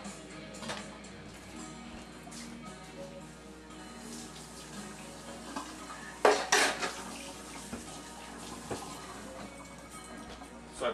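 A spoon stirring sauce in a pot for a stuffed eggplant dish, with soft scraping and occasional sharper clinks against the metal, quiet and close, a louder knock cluster midway.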